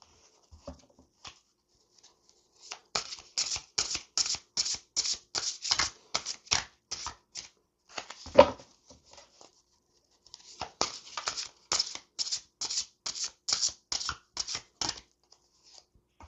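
Tarot or oracle cards being shuffled for a card reading, two long runs of crisp rapid riffling and slapping with a brief quiet gap between, close and isolated, no talk.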